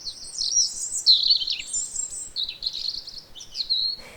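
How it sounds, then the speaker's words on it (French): A songbird sings clear, flute-like whistled phrases, several short bright strophes in a row, close and alone against a quiet background. "Il est facile à reconnaître grâce à ses strophes flûtées"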